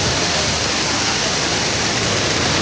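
Rain falls steadily at Sapua, a dense, even hiss that stays loud and unbroken throughout.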